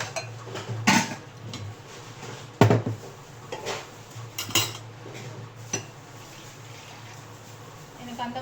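A bowl and utensils are handled while making a foaming face wash formulation, giving several sharp clinks and clatters spaced irregularly over a low background hum, close and fairly loud.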